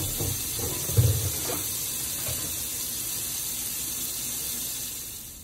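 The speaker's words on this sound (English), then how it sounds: "here I have my husband washing out the bowls that I'm going to have the cabbage in, and also the mason jar" Tap water runs while bowls and a mason jar are washed in a sink, with a muffled knock near the start, then a steady flow that slowly fades out.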